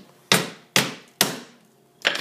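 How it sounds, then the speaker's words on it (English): A hammer knocks a shim loose during a double-pane double-hung window install, three loud close strikes spaced about half a second apart, with a fourth softer knock at the end. "then we pick up our hammer that we laid back here"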